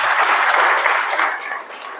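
An audience claps loudly and steadily, a dense crowd applause that holds strong before tapering slightly near the end.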